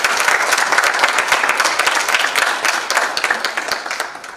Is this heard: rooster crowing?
no